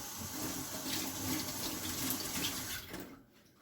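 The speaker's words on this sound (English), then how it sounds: "let me wash my hands" Tap water runs steadily into a sink as hands are washed beneath it, a close, continuous splashing rush that cuts off abruptly near the end.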